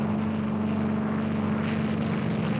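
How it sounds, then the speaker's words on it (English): Scores of aircraft drone steadily overhead above anchored target ships at the 1946 Operation Crossroads atomic test, a constant propeller hum with no voices. "scores of other aircraft are taking their prearranged positions in the sky above the anchored ships"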